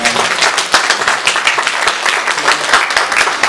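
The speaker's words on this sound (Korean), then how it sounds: "여러분들 다시 한번 격려 박수를 해주시면 감사하겠습니다." Church congregation applauding at a Sunday worship service, dense steady clapping from a crowd filling the room, loud and close throughout.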